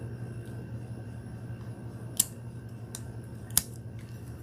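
Scissors snip foil trimmed from a thermal wine tumbler, two sharp, close cuts standing out over a faint steady hum, with no talking.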